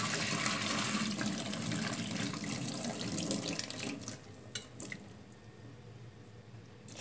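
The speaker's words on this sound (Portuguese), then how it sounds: "Então, gente, eu vou escorrer aqui na pia essa água." Hot chicken cooking water with rosemary pours from a pot into a kitchen sink in a loud, steady gushing splash that thins into lighter trickles and drips toward the end.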